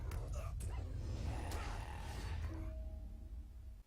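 Dogs in The Lord of the Rings Online yelp and whimper in short bursts, close and fairly loud, with a final high whine trailing off as they are killed.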